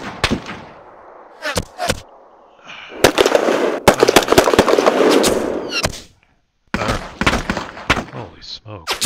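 Gunfire and explosion effects from the Panzer Campaigns Bulge '44 wargame come as bursts of crackling shots and booms, dense at times and broken by short gaps, with a voice talking over parts of it.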